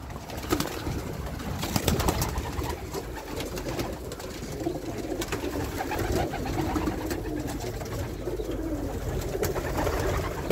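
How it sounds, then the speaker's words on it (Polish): Many pigeons, close to a hundred returning to a loft, coo and shuffle together in a soft continuous murmur with occasional wing flutters and bumps. "Prawie 100 gołębi jest tutaj. Gołębie wracają."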